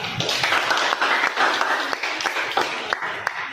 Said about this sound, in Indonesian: Mari kita beri aplaus buat kita.